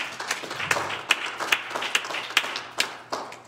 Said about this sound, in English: Will you clap your hands unto the Lord?